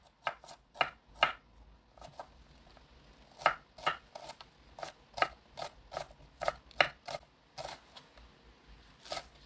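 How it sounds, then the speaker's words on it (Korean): A knife chops green onion roots on a cutting board in a quick series of sharp, close taps, grouped in uneven bursts with short pauses. "이거를 뿌리 부분이 너무 크잖아요. 크니까 이렇게 좀 송송 썰어 줄게요"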